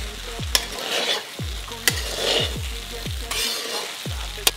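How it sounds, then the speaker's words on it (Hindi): Sabudana khichdi is stirred in a pan: a low sizzle under repeated rhythmic spoon strokes and scrapes, each stroke thudding sharply against the metal, with no speech. "अब इसको मैं अच्छे से मिक्स कर रही हूँ"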